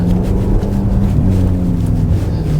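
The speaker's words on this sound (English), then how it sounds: "now our cold start's gone off, just burbling, it's not too loud at all" A 700-horsepower BMW X6M with its muffler deleted, settling into a low idle after a cold start: a steady, deep rumbling burble with slight throttle wavers, heard up close and without speech.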